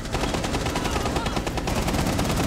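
Rapid automatic gunfire in Rainbow Six Siege, dense bursts of shots firing continuously and loudly with no pauses, close and harsh, no talk over it.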